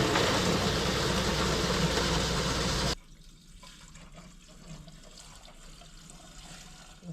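Tap water from an outdoor spigot pours steadily into the triple-core radiator of a big-block Plymouth, a loud gushing rush for about three seconds that then cuts off abruptly, leaving quiet room sound.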